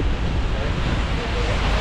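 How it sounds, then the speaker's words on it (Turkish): Heavy rain and strong wind roar together in a continuous, loud wash of noise across Belfast city centre in Northern Ireland, with wind buffeting close to the microphone. "Şu an yağmur yağıyor."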